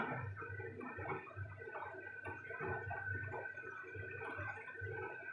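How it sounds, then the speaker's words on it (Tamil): Curry with water, salt and separated oil boiling in a pot, a soft bubbling and gurgling with a rhythmic pulse, faint and close, with no talking. "குழம்பு நல்லா கொதிக்குது பாருங்கள்."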